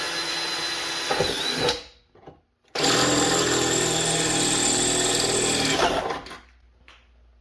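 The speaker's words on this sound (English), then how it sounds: "So we got our drilling done here" A power drill whines loudly in two bursts while drilling into metal, a shorter run then a longer steady one, with a brief pause between and quiet afterward.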